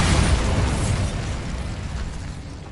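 A Bombarda spell explodes in Hogwarts Legacy, a loud, close, booming blast with heavy low rumble that decays gradually over a few seconds.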